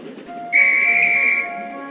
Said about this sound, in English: The guard's whistle blew, and Gordon puffed sadly away.